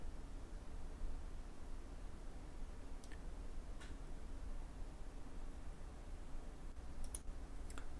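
Computer mouse clicking during CAD modelling, with a few faint, sharp isolated clicks spaced over a quiet background hiss.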